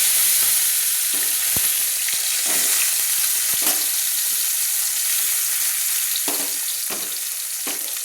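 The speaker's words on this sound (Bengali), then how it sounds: "তো 5টা বাটা মাছ আমি একসঙ্গে কিন্তু ছেড়ে দিলাম ভেজে নেওয়ার জন্য।" Five marinated bata fish fry in hot oil in a wok over a low flame, giving a loud, continuous sizzle with scattered pops and light scraping sounds, and no voices.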